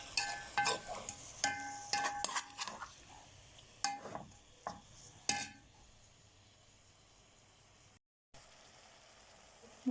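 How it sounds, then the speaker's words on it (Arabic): Liver being stir-fried in a pan, close clinking and scraping of a utensil against the pan over a quiet sizzle for the first half, then fading to faint sizzling. "نبدأ طبعا نشوح في الكبدة بتاعتنا زي ما احنا شايفين بالشكل ده"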